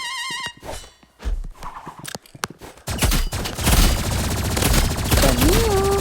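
Energy pistols and a sniper rifle fire in a video game, starting with scattered sharp shots and then settling into a dense, loud, continuous barrage. Electronic tones and a rising synthetic whine sound over the gunfire.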